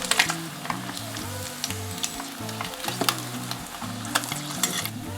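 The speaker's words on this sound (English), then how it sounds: "Fry them at 180 degrees Celsius for 12 minutes." Fish pieces frying in oil at 180 degrees Celsius give a steady crackling sizzle with sharp pops, heard up close and alone, though background music also runs underneath.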